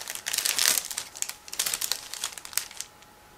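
Crinkling of a plastic bag being torn open and handled to reach a clear sprue from a 1/35 ICM Sd.Kfz.247 Ausf.B model kit, close up with repeated rustling bursts and no talk.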